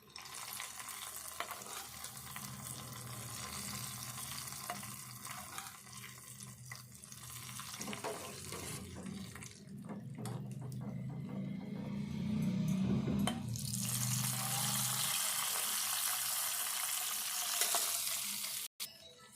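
Tempering spices with onion, garlic and turmeric fry in oil for a lentil rasam, making a continuous soft sizzle that grows louder and brighter partway through, with clinks of stirring and no voices.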